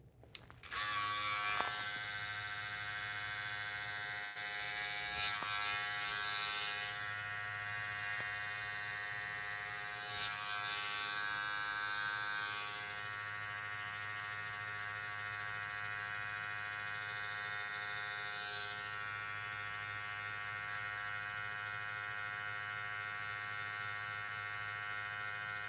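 Electric hair clippers fitted with a #3 guard buzzing steadily through a self-administered buzz cut, a close, constant motorized hum with bright harmonic whine that shifts slightly in texture as the blades move through hair, no talking.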